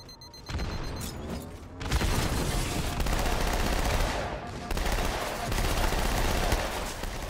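Sustained automatic gunfire in Halo MCC multiplayer, loud dense bursts with booming low end, a brief lull near the middle before the firing resumes and continues to the end.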